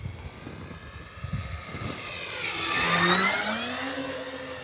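An E-flite Beechcraft D18 twin-engine RC model plane, 1.5 m span, flies past with a steady propeller drone that swells louder as it approaches, its pitch bending downward as it passes overhead outdoors.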